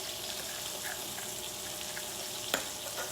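A thin stream of water trickling into a whisked paleo batter in a kitchen bowl, a soft steady hiss with a faint clink near the end.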